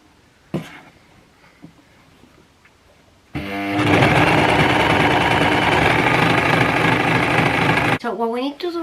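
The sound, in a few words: overlocker sewing pyjama bottom seams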